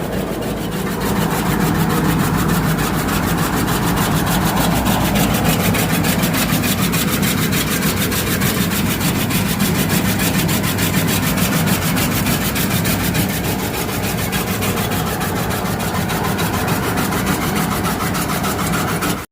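A motorised kutti-style chaff cutter with its motor runs steadily while chopping fresh green jowar fodder. It gives a loud, continuous whirring and grinding with a fast, even chopping texture for the whole stretch, and no voices are heard.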